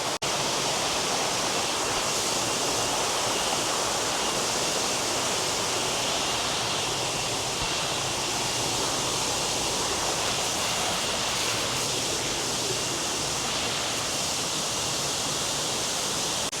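A large waterfall roars as a dense, constant rush of water. It is loud and steady throughout, with no voices.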